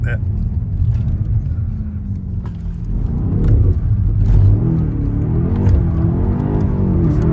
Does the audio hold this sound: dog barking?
no